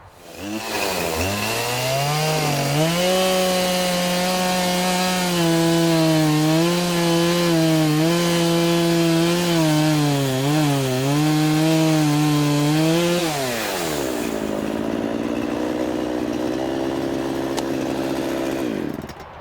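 Chainsaw cutting into tree stumps to prepare them for burning out, its engine roaring loud and close at a high, wavering pitch for most of the stretch before dropping back to a lower idle.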